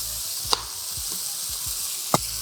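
Chana sizzling in a pan with onion, garlic, pimento and spices, a steady frying hiss with a couple of sharp utensil clinks and low scraping strokes.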